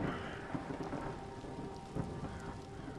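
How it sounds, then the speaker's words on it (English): Steady rain with low rolling thunder in a video game, a constant dense wash of downpour with a couple of louder rumbles, no voices. "Turn down the goddamn rain sound effects game."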